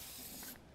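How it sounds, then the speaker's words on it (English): An aerosol can sprays rust encapsulator through a fan spray nozzle onto a vehicle frame, a steady, soft hiss lasting under a second before it cuts off. "this encapsulator has like a fan spray pattern out of the can, which makes it a lot nicer"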